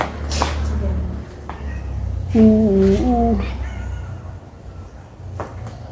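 A cat meows a few times nearby, one clear drawn-out meow in the middle, amid people talking and outdoor background noise.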